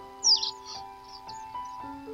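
Birds sing over an autumn-morning swamp in thick fog: one bright, close chirp early on, then fainter scattered calls over a quiet, still background.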